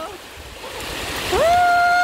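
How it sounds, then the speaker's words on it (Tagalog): Rain and gusting wind roar steadily, growing louder, while a rising tone slides up and holds near the end. "ang hangin. Ang lakas ng ulan."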